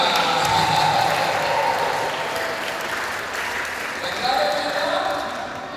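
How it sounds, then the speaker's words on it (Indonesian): Lively applause from a youth seminar audience in a church hall, a dense clatter of many hands with murmured voices mixed in, swelling again briefly near the end before fading. "tepuk tangan yang meriah"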